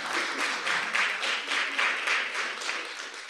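Steady applause from a sizable audience at an event with the President of Sierra Leone, a dense, continuous patter of many hands clapping with no voices over it.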